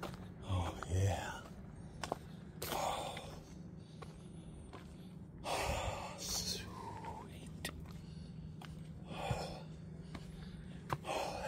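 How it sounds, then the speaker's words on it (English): Heavy, breathy panting from a hiker climbing the trail up Barn Bluff in Red Wing, Minnesota, with repeated close huffs and gasps mixed with footsteps on the path and occasional quiet voices. "It's me breathing."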